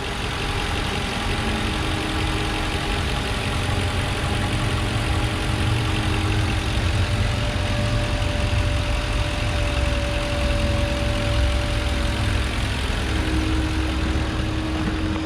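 A 2008 Ford F150 XLT crew cab pickup with a 4.6-liter Triton V8 idles steadily close by, a constant low rumble with a faint whine rising partway through and no voices.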